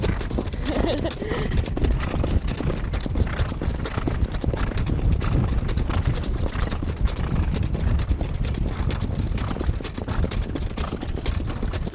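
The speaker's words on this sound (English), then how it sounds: "Have you ever seen a more beautiful trotter?" A trotter's hooves clip-clop steadily on a harness racing track during a training workout, a fast, even rhythm running throughout, close and loud, with someone talking over it.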